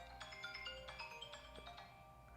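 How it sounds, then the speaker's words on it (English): A phone ringtone plays a quick melodic pattern of bright tones, fairly faint under a low background hum, with no talking. "Go answer the phone."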